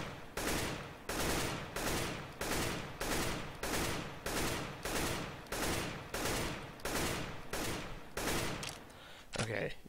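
Rapid gunfire from the video game Counter-Strike: Global Offensive, short bursts repeating in a steady rhythm about a dozen times, loud and close, ending with a brief sharp click.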